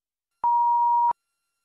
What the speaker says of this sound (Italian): Risponde la segreteria telefonica di John, lasciate un messaggio dopo il beep